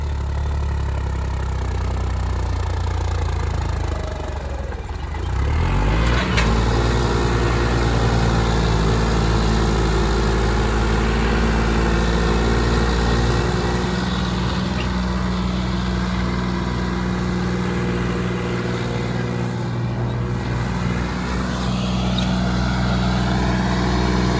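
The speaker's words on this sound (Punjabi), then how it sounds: "ਸੀ2 ਦੇ ਵਿੱਚ ਦੇਖੋ ਪਰਫਾਰਮੈਂਸ ਦੇਖੋ ਟਰੈਕਟਰ ਦੀ" A heavy tractor engine runs steadily and loudly nearby, its low rumble rising briefly as it revs, then holding a constant drone.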